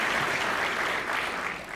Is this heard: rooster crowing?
no